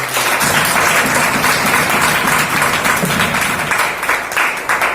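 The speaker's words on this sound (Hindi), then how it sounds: "ताली बजाकर हम पास्टर टाइटस को स्वागत करें।" Sustained applause from a church congregation welcoming Pastor Titus at a Hindi worship service, a steady dense clapping that fills the whole moment without pause.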